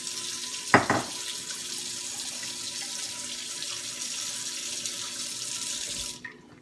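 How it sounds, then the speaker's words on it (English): Cool tap water running steadily into a measuring cup for about six seconds, a close continuous stream with a brief clunk near the start, then the flow shuts off. "we're going to need a whole cup of cool water in the measuring cup."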